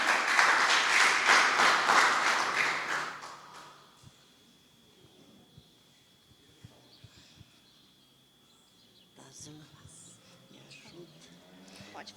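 A church congregation claps loudly for about three seconds in a Portuguese-language worship service, then the applause stops abruptly, leaving a quiet room with faint shuffles and a voice beginning to speak.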